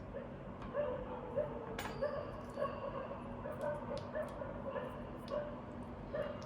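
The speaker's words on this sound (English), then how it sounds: "sorry for the dogs barking in the background." Dogs barking somewhere in the background, repeated yips and short barks at a fairly regular pace, moderately distant and not loud, with faint room noise.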